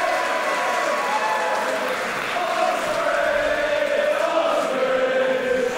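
A large wrestling arena crowd at a WWE event roars and cheers in a sustained wash of noise, with a commentator talking over it.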